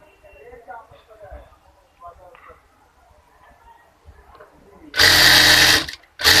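A sewing machine stitches a fold on a toddler's half pants before hemming. A quiet stretch with faint voices leads into a loud, steady motor whir of about a second, then a brief restart.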